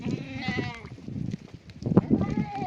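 A goat bleats several times close by, short wavering cries mixed with people talking nearby.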